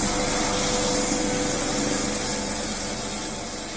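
A helicopter evacuating disaster victims in West Sumatra drones loudly and steadily nearby, its engine whine and rotor hum constant throughout with no voices.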